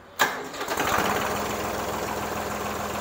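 A Deutz-Fahr Agrolux 55 hp tractor engine cranks and catches with a sharp burst, then settles into a steady, heavy diesel idle with a faint turbo whistle, close and loud.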